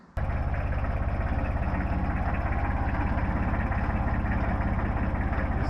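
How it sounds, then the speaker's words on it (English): A tractor engine starts up at once and settles into a steady, loud, close idle with an even low-pitched chugging rhythm that runs without a break. "So I think I'll start the tractor up"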